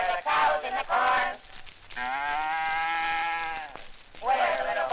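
A voice imitates a sheep with a long, quavering bleat lasting about two seconds, set between bursts of sung or spoken lines on an old minstrel recording.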